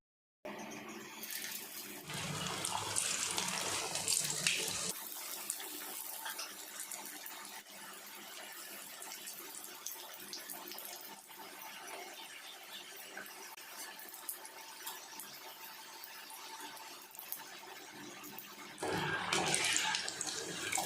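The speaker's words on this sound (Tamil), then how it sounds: "இப்போ நம்ம ரெடி பண்ணி வச்சுருக்க சமோசாவை ஆயிலில் சேர்த்து" Onion samosas deep-fry in hot oil with a continuous close sizzling hiss that surges louder at the start and again near the end.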